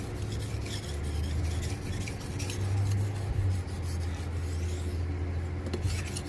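A Western-style knife is sharpened on a stone with a push-pull stroke, giving a continuous gritty rasping scrape with a steady rhythm, close and fairly quiet.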